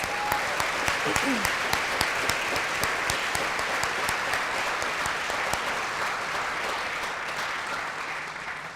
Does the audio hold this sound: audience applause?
yes